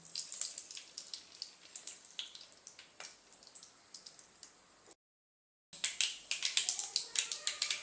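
Mustard seeds crackle and pop in hot oil, a rapid scatter of sharp spitting sounds; the popping briefly cuts out, then resumes louder.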